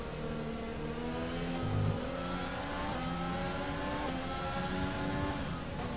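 Formula 1 car engine in the F1 2020 game revving through a long right-hand corner, a sustained high whine with rising and shifting harmonic tones, loud and close, with no talk.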